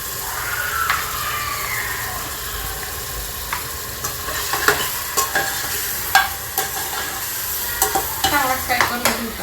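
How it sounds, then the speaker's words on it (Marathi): Onions sizzling with salt in a pan for a mutton keema masala, a loud continuous fry with repeated spoon stirs and scrapes clattering against the pan. "चांगला फ्राय करून घ्यायचा आपल्याला लाल।"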